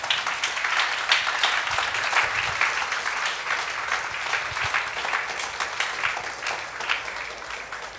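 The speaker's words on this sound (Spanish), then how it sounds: "Dale un fuerte aplauso a Cristo Jesús." A church congregation applauds steadily throughout, a dense, sustained wash of many hands clapping at a moderate distance with no pauses or voices rising above it.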